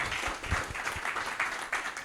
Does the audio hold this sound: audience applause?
yes